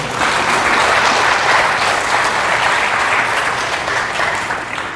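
Sustained applause from a sizable lecture audience, steady and dense clapping throughout, tapering slightly toward the end.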